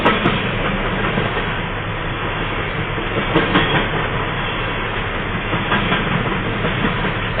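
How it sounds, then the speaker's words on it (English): A long freight train rolls steadily past close by, a continuous loud rumble of wheels and railcars with faint rhythmic clatter and no break. "Some of these trains are freaking huge."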